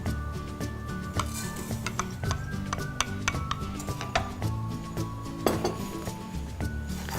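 Seviyan vermicelli roasts in ghee in a pan over mild heat as a utensil stirs and scrapes, giving irregular metallic clinks and taps against the pan, close and fairly loud, with no talking.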